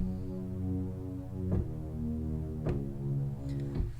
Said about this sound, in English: I have the BA Hot Reese from my Orbital pack